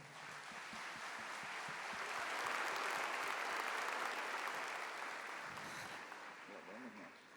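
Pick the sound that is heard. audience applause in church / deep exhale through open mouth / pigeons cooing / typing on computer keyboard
audience applause in church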